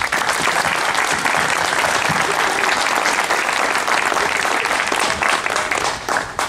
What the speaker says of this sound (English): Round of applause to our families, to our familias.